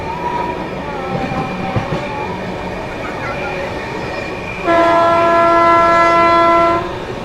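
The 12329 West Bengal Sampark Kranti Express runs at speed through Parasnath station with a steady rolling rumble, then a loud, sustained horn blast of about two seconds cuts in near the end.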